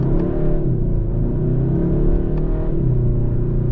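A 2023 Kia K5 GT with the GT1 package accelerates, its engine note boosted by synthetic sound piped through the cabin, giving a steady loud rumbling drone that rises and eases without a break.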